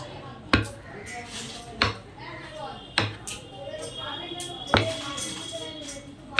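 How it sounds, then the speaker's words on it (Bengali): A knife cuts through paneer for butter paneer, giving sharp, separate chops against a board at uneven intervals, five or six in all, while a voice talks throughout. "আগে এই দেখো পনির কাটছি আমি এখন।"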